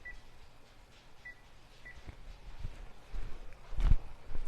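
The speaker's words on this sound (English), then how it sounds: "I'm just going to go set the timer" Several short, faint electronic beeps ring out as a kitchen timer is set for nine minutes, followed by louder bumps and handling noises near the end, with no one talking.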